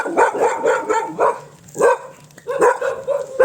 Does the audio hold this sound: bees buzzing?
no